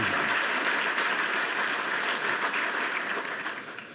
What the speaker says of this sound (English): would you please join me in a round of applause for all of them